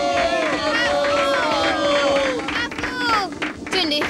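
A cartoon crowd claps and cheers in a lively, dense burst of animated applause mixed with babble, whistles and sound effects, with voices over it.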